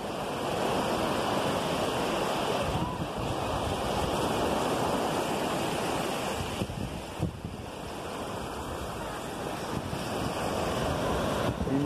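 Steady wash of ocean surf on the wide beach at Barra do Saí in Itapoá, Santa Catarina, Brazil, continuous and fairly distant, mixed with wind buffeting the microphone.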